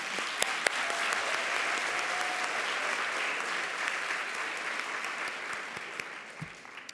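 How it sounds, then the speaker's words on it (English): An audience at a school discipline and implicit bias event gives a round of applause for a speaker, even, continuous clapping heard from a distance, fairly soft, with a few crisp claps nearer by. "Everyone, just give a round of applause for Dr. Goff"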